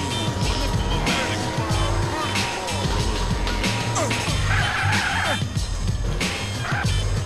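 Game car in GTA San Andreas driving with continuous engine drone and repeated tire squeals and skids, plus scattered impacts and game effects, loud throughout.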